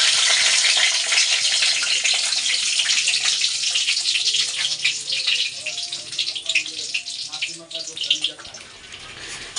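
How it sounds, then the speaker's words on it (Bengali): Whole spices (bay leaf, dried chilli, cardamom, cinnamon, cumin) temper in hot oil for meat curry, a loud, bright, continuous sizzle with stirring, fading slightly toward the end. "এবারে মাংসটা ফোড়ন দিয়ে দেবো"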